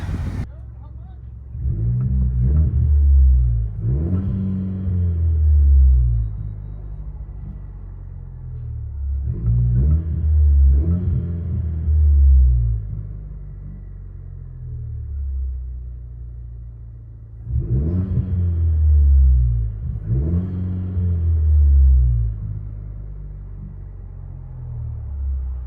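Inside the cab of a 2024 Chevy Colorado 2.7L turbo with straight pipes, the exhaust booms through four repeated revs, each a rumbling surge that falls back to a low idle.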